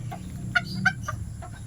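Chinese chickens kept at a small store clucking close by, a few short soft clucks scattered over a low background hum.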